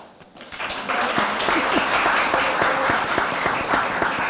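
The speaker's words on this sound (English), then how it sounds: "I guess you guys can hold your applause till the end." A live audience claps during the announcement of a school culinary showdown, with steady, full applause rising after a brief quiet start and continuing throughout, with a voice faintly underneath.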